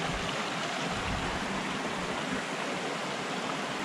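A mountain stream in the Serra d'Arga hills rushes steadily with dense, broadband water noise, close and continuous throughout with no voices.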